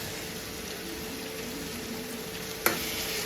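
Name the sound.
ginger, garlic and onion paste frying in a pan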